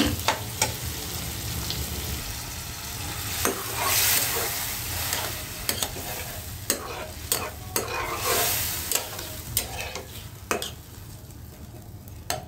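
Curry sautéing in a pan while boal fish and mustard greens are being cooked, a loud continuous sizzle with repeated spoon scrapes and clacks from stirring, no voices.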